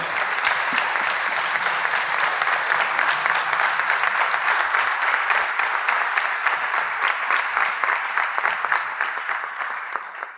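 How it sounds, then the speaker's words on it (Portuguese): Steady, dense applause from a concert audience at a philharmonic band performance, loud and continuous for about ten seconds before easing off slightly at the end. "Uma salva de palmas para o Gabriel."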